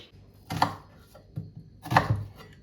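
A knife cuts through an onion on a board in a home kitchen, a few distinct chops in two main bursts with a softer one between, close and moderately loud, no talk.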